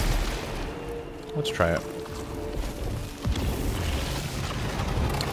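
Shotgun blasts from the PS5 game Returnal, a booming shot near 1.6 seconds followed by dense rumbling game effects, with someone talking briefly over the action.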